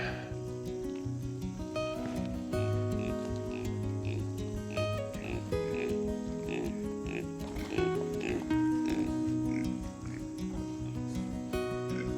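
Pigs oinking and grunting on a farm near a farrowing barn, scattered snorts and squeals over a busy outdoor background with a person talking through much of it.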